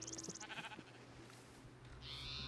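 Sheep in the video game Minecraft give short bleats, first a quick wavering bleat and then another a little later, faint and close with no talking.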